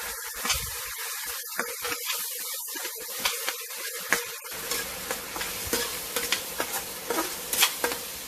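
Spice paste sautés in hot oil, starting with crackly sputtering and scattered pops, then settling into a fuller steady sizzle with repeated stirring scrapes.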